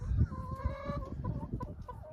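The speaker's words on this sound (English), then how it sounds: "Ducks in front of me, chickens behind me." Chickens cluck and murmur nearby, several soft overlapping calls over a low rumble.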